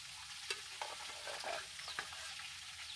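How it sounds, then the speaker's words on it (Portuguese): Hot cooked potato is mashed with a fork in a pan, giving soft, quiet scraping and squishing with occasional sharper taps of the fork, close and faint. "Machucar essa batata bem machucada com um garfo."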